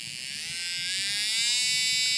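A nail e-file drill fitted with a removal bit spins up, a steady high-pitched electric whine that climbs in pitch and loudness as it gathers speed, heard up close with no talking.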